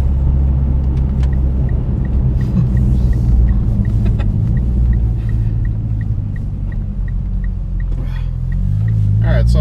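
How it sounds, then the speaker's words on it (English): A 2015 Mitsubishi Lancer Evolution MR engine with an AEM cold air intake rumbles loudly and continuously from inside the car, a deep drone with a faint rhythmic ticking and a voice talking over it. "the car is a little bit louder"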